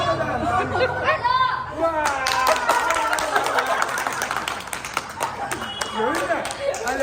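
A group of people clap together at a lively family gathering with a garba team, steady overlapping claps running under loud chatter and talking voices.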